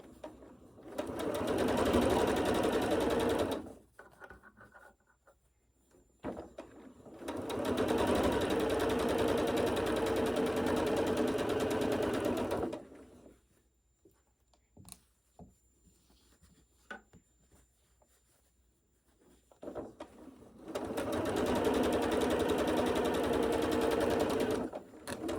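A sewing machine runs in three long steady bursts while sewing the large curves of a quilt, a close, even mechanical whir with quiet pauses between runs where fabric is handled.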